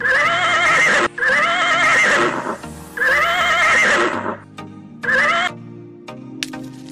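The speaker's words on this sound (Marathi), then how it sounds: "हा घोडा आहे घोडासुद्धा पाळीव प्राणी आहे" A horse whinnies loudly and clearly in several long, shrill, wavering calls with brief gaps between them, close up and with no talking, followed by a few shorter snorts and neighs.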